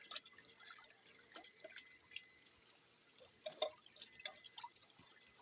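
Water being poured and dripping over a stone statue's feet at a Koyasan temple, soft irregular splashes and drips, faint and close, with no talking.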